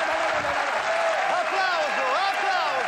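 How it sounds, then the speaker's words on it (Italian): A TV studio audience applauds in a continuous wash of clapping, with a voice calling out over it. "Applauso, applauso,"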